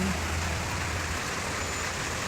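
Steady rain pours as a dense, even hiss at a Philippine home near the sea, with a faint low rumble underneath and no pauses.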